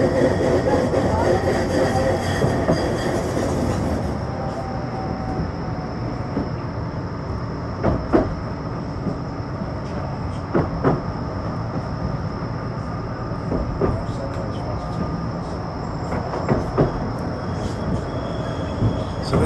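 A Blackpool tram runs along street tracks down the middle of a dual carriageway from Fleetwood to Starr Gate, with a steady rumbling ride, periodic sharp clacks at rail joints and someone talking throughout.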